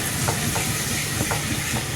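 Ginger garlic paste fries in hot ghee while being stirred, making a dense, continuous sizzle with soft rhythmic scraping strokes close up.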